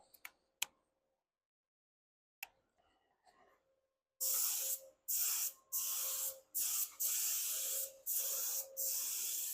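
A spray paint gun coats the hood of a 1983 Chevy Blazer in a touch-up and fade, sending out loud hissing bursts of about a second each with short pauses, after a few quiet clicks and ticks of setup.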